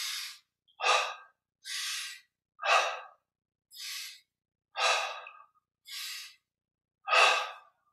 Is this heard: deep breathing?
yes